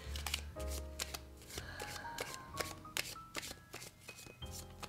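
Fortune-telling cards being shuffled over and over close by, a steady run of crisp riffling strokes with soft tonal music in the background.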